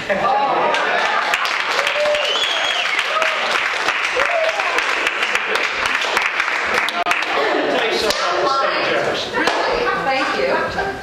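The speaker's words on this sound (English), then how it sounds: "I just wanted to give you a round of applause for your vote on the state of Jefferson" Loud, sustained applause fills a town hall meeting, with sharp individual claps and voices and calls from the crowd mixed throughout.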